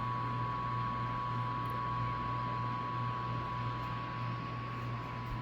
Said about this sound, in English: Also, the motor sounds like this when running.